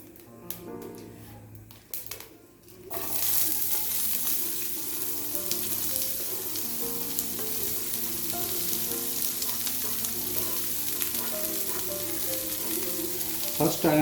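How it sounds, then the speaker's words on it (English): Onion and tomato slices hit hot oil and stir fry for a Hilsha Kalia fish curry, a loud continuous sizzle that starts after a few seconds of quieter clatter and stays close and steady. "I will stir fry it till it becomes golden brown"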